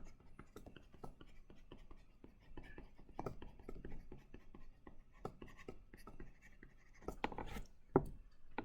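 Chalk or marker writing on a board during an electronics lecture, heard as quiet, irregular taps and scratchy strokes close by, with a few sharper clicks near the end and no speech.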